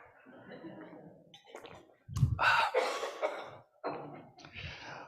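A cough during a church sermon, a sharp loud burst followed by a few rougher coughs, set among a preacher's nearby speech in a quiet room.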